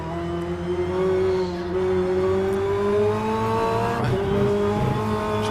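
BTCC touring cars in rFactor 2 at Hockenheim's hairpin, engines droning loudly and continuously with overlapping pitches as cars jostle to overtake, one note sliding upward on acceleration.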